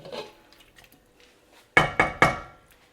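Vegan potato curry filling stirred in a pot, a few faint scrapes followed by three sharp, loud knocks of a spoon against the pot, close and with no talk.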